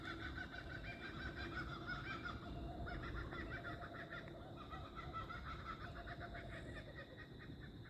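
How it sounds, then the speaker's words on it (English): Kookaburra laughing call from outdoors in Australian bushland, a faint, rhythmic cackling chorus heard from inside a tent, with no talk. "Beautiful kookaburra laughter there."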